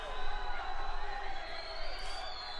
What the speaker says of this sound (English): The crowd getting behind.